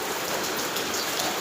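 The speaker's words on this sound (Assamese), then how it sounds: "এয়া বৰষুণ দি আছে এতিয়া অকমান কমিছে কিন্তু ৰাতিটো কন্টিনিউ বৰষুণ দিছে" Steady rain falling during an Assamese monsoon night, a dense continuous patter of drops on surfaces, even and unbroken throughout, with no voices.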